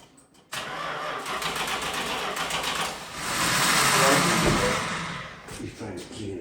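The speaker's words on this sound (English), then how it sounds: "Start these cars." A muscle car engine cranks and catches, then revs loudly and steadily for several seconds before settling, heard up close in a garage.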